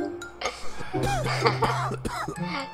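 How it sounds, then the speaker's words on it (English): Characters in a Roblox game cough repeatedly, several harsh, raspy bursts in quick, uneven succession, with some talking mixed in. "Why are they coughing?"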